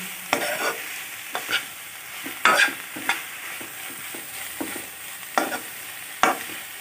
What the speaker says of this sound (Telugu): ఈ విధంగా మనం పచ్చి వాసన పోయే వరకు తోటకూరని ఫ్రై చేసుకోవాలి